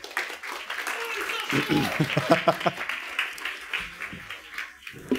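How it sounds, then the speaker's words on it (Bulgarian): An audience applauds at a talk, with a brief burst of clapping that rises and fades over a few seconds, mixed with a murmur of voices and an introduction being spoken. "Аплодисменти за Александър Иванов."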